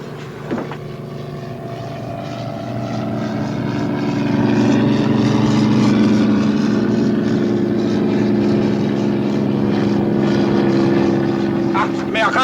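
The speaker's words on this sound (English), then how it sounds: "Amerikanische Flugzeug!" An American airplane passes overhead in a WWII-era wartime drama, its propeller-engine drone swelling louder after a few seconds and then holding steady and close, with faint voices in the background.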